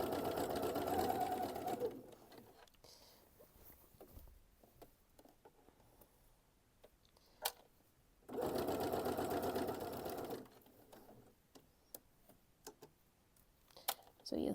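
Sewing machine stitching fabric, two close bursts of fast whirring stitches separated by a long quiet stretch filled with faint ticks and handling noises, and a brief final restart.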